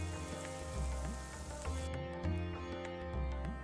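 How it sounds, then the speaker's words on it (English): Onions frying with salt in a pan on an induction hob, a steady sizzling crackle with soft popping, close and fairly quiet, with no talking. "Now what you want to do is caramelize these onions."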